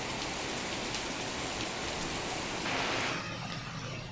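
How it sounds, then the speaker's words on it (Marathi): Steady unseasonal rain falls in a city with a dense, even hiss throughout, briefly growing louder near the end before easing slightly. "शहरातील अनेक भागात पाऊस होतोय"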